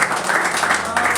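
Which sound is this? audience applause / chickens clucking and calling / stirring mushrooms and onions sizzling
audience applause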